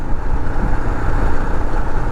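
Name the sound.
Royal Enfield Himalayan motorcycle exhaust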